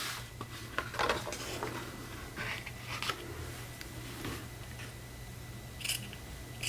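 Scissors cut through thick fabric that has been folded over and sewn, making several crunchy snips and rustles at an uneven pace. It is close, with a steady low hum behind and no voices.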